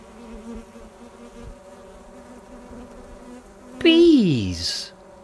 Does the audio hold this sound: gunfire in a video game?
no